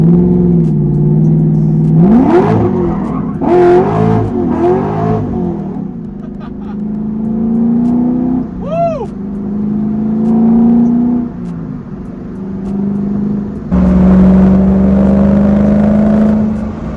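An LS3 V8-swapped Nissan 350Z revving hard and downshifting, with sharp throttle blips rising and falling in pitch. The loud, close engine gives several surging revs and sustained pulls across the stretch.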